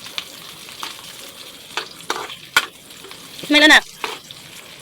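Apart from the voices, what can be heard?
sautéing onion and ground meat in a pan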